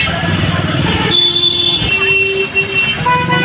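Busy traffic outside Rajshahi railway station, with CNG auto-rickshaws and other vehicles honking in repeated sharp toots over a constant roadway rumble, close and loud, while someone talks nearby.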